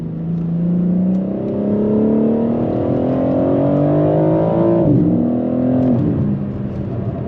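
A BMW G82 M4 accelerating hard, its engine note rising steadily through a gear with brief dips at the shifts, loud and close from inside the car.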